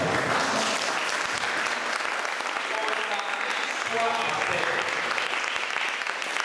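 Worshippers applaud and cheer for Jesus Christ at a church gathering, a dense, steady wash of clapping with shouts rising over it throughout, loud and close.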